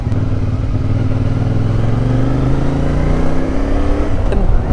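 A motor tricycle on a very steep road near Agoo on the way to Baguio, its engine droning loud and close with a slowly rising pitch as it moves, the sound continuous and unbroken.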